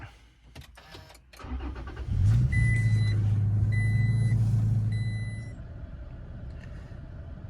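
A 2017 Toyota Tacoma TRD Sport 4x4 pickup starts with a push button: a short cranking burst, then the engine catches and idles loudly and steadily for a few seconds before settling lower, with a chime sounding repeatedly above it.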